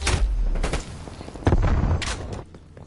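Rapid gunfire and explosive bursts in a Call of Duty match, with a frag grenade in play: several loud cracks and booms in quick succession, some sharp and close, fading toward the end.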